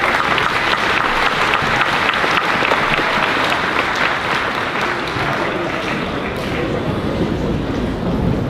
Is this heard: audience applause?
yes